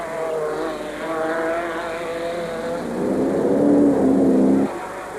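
On board a 4.6-litre Range Rover racing in the 1996 Super Series, the engine drones steadily and loud, rising in pitch as it accelerates and then dropping off abruptly near the end, with constant road and wind roar.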